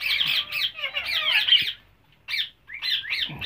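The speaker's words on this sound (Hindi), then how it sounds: "बर्ड जो हैं वो काफ़ी ज़्यादा शोर कर रहे हैं" Pet ring-necked parakeets squawk and chirp loudly at close range in harsh, overlapping calls, break for a short silence, then start up again with more shrill squawks.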